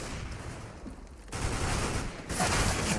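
AK rifle gunfire in a Counter-Strike: GO pro match on the Cache map, dense overlapping shots and rapid bursts in a continuous barrage, fairly loud and mixed with game ambience.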